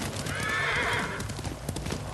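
Horse hooves clip-clopping in the video game Ghost of Tsushima, a brisk run of close, loud hoofbeats with a whinny rising over them early on.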